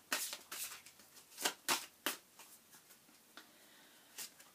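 Romance Angels oracle cards riffled and shuffled in quick bursts of papery flutters and soft snaps, close and quiet, with short pauses between the shuffles.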